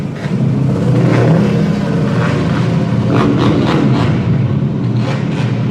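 Race car engines of about 70 horsepower roar loudly and steadily, with several engines revving and rising and falling together as the cars pass nearby, and no speech over them.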